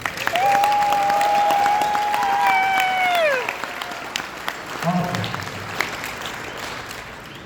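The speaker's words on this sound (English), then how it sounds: "Let's give them a round of applause." An audience at a military regimental ball applauds the color guard and master of ceremonies, steady moderate clapping that fades after a few seconds, with a voice speaking and a whistling tone over the early part.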